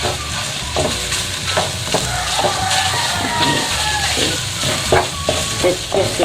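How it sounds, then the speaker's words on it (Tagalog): Ground pork sautes in a hot pan for a fried rice dish, a steady close sizzle and crackle broken by repeated scraping stirs of a utensil against the pan. "Let's just saute this"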